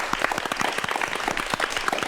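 Audience applause at the close of a lecture on virtual reality, many hands clapping in a busy, uneven patter at steady moderate-to-loud level, with no speech over it.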